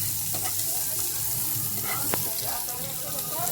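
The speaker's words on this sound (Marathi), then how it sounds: "त्याच्यामध्ये कांदा टाकते आता काहीच आता कांदा टाकलेला आहे बघा तेल मस्त तापलाय" Chopped onion hits hot oil in a pan and fries with a soft, steady hiss and light crackle, close by, with a single faint click partway through.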